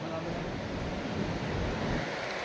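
Big ocean waves wash onto the beach at a resort in San Juan, La Union, producing a steady, broad, rushing roar mixed with wind buffeting the microphone.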